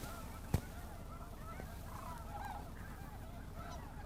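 Large flock of geese and other waterfowl at a wildlife refuge, a steady far-off chorus of overlapping honks and chatter with one sharp close knock early on.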